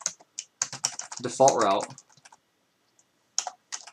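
Computer keyboard typing while configuring a network router, with rapid clustered key clicks in bursts around a man's speech.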